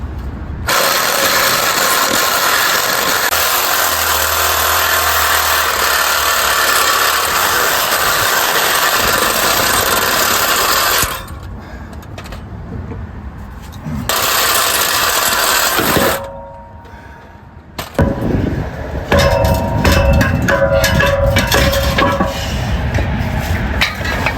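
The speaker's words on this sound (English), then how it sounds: "this Sawzall blade is very dull" Sawzall reciprocating saw with a dull blade cutting through the exhaust pipe of a 2008 Chevy Avalanche, a loud continuous buzzing rasp with brief pauses, then rougher choppy cutting, no talking.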